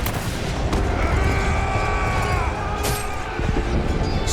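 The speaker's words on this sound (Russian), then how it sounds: "Затем стрельцы открыли ружейный огонь." Musketeers fire a volley of musket shots in a dramatized battle from Russia's Time of Troubles. A few sharp cracks rise out of a thick, constant wash of battlefield noise.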